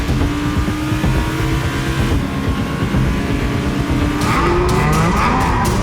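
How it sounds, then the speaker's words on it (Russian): A car engine roars loud and close under hard throttle on a road trip in Cyprus, a steady strong drone that climbs in pitch, with a burst of rougher, brighter noise and tyre squeal near the end. "Вот ты только нажимаешь на газ и взлетаешь."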